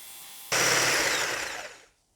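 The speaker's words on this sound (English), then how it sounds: "Meanwhile, beat the white." An electric mixer beating egg whites for a light quiche: a steady, loud whir that starts abruptly, runs for about a second and a half, and cuts off, with no talking.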